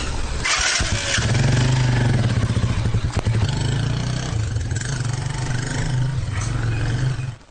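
A motorcycle loaded with tied-on machetes rides a rugged rural road in Loum, Mongo division, its engine roaring loud and close with a steady droning pulse throughout, with no speech.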